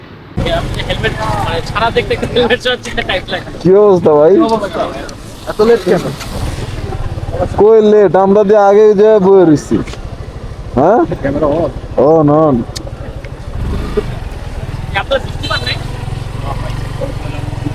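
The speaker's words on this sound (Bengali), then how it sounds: "ফাইনালি বাইক রাইড করতে করতে চলে আসলাম মাওয়া" Motorbike ride along a rainy road to Mawa Ghat on the Padma river: steady engine drone and heavy wind buffeting the microphone throughout, with a rider talking over it in several bursts.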